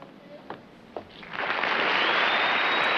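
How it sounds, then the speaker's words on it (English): A studio audience breaks into applause during a scene of The Honeymooners, a dense wash of clapping that swells up after brief talk and holds steady, heard at a slight distance. "She gets a little applause."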